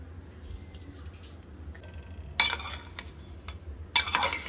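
Paneer, chana and moong protein salad being stirred with a spoon after salt and lemon juice, giving two bursts of scraping, clinking mixing sounds over a quiet background.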